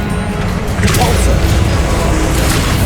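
A Repulso spell impact in the video game Hogwarts Legacy lands as a loud, heavy boom with a dense rumbling blast that swells about a second in and holds steady under continuous noise.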